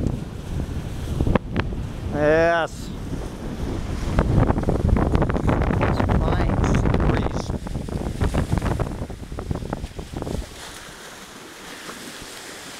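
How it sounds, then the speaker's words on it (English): Strong sea breeze on the shore roars steadily across the microphone with rushing gusts and surf beneath, while someone speaks briefly early on. "This fine sea breeze."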